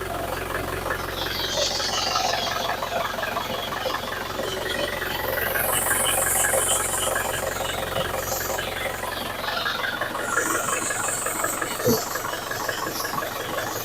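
An Isuzu Panther Grand Touring 2013 engine in healthy condition idles with a steady, even mechanical rumble and faint ticking, running unbroken and close by.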